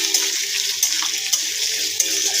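Onion stirred and fried in oil, a loud steady sizzling hiss up close with a few light scrapes of a spatula.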